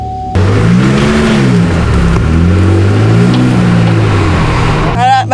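A Ford Mustang drifts, its engine rising and falling in loud revving sweeps close by, with a sharp onset and a voice cutting in at the end.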